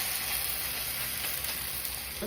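Thalipeeth roasts in ghee on a hot pan, giving a steady, close sizzle and crackle that stays even throughout with no talking.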